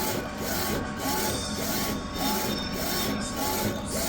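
A DTF printer prints colors, its printhead carriage running in a repeated back-and-forth rhythm of whirring passes with brief gaps between strokes, steady and close.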